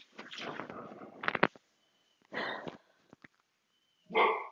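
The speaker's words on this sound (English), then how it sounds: "there's my dogs" Several dogs bark in loud, close bursts, with a whimpering run at the start followed by separate sharp barks spaced apart.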